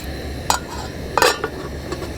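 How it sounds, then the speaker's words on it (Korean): At a seaside campsite, a metal cooking pot of water is handled for boiling. It gives a few sharp, close clinks and knocks spaced over a low outdoor background. "그래서 일단 냄비에다가 물을 좀 끓일게요."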